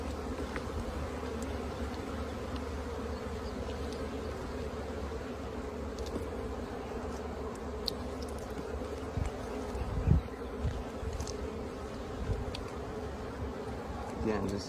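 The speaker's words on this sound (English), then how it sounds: "you've got to move pretty fast because the bees fly" Honey bees flying around an open beehive during a frame inspection, a continuous layered buzzing drone of many insects close by, with occasional soft handling clicks and knocks.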